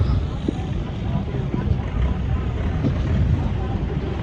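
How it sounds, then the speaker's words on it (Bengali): A boat motors across Phi Phi lake with a steady broadband rumble and rushing wind and water noise, loud and continuous throughout. "আমরা ফিফি লেকে বোটিং করছি এবার"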